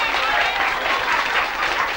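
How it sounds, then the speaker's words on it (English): An audience at a 1994 harp talent show in Derragarra applauds steadily. The dense crowd clapping forms an even, continuous wash from start to end. "Mr. Paddy Smith, big round of applause, Mr. Paddy Smith."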